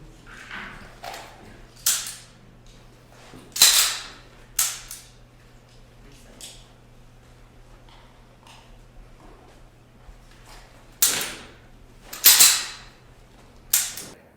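Several sharp gunshots crack out during a live-fire shooting drill from behind cover, coming in spaced pairs and singles with quiet gaps between, at moderate distance.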